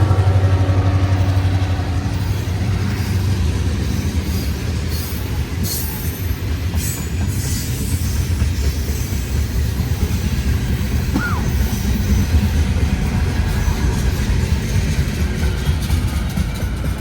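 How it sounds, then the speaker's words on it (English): An orange juice freight train rolls past nearby with a steady, loud rumble of rail cars, clanking wheels and a brief squeal of wheels on the track, continuous for the whole stretch. "got the orange juice train here"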